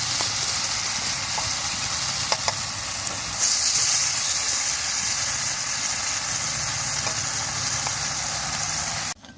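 Onion pakora fritters frying in hot oil, a steady close sizzle and hiss with a brief louder flare as batter goes in, running alone without talk until it cuts off.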